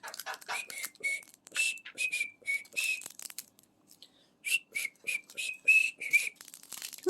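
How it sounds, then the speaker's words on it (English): A pet parrot whistles a tune at home, a run of short bright notes and chirps in two bursts separated by a brief pause, close and clear with no talking. "Smokey, can you whistle a song?"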